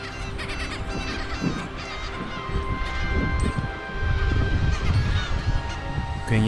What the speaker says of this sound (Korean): 괭이 갈매기의 울음소리가 요란하게 울려 퍼집니다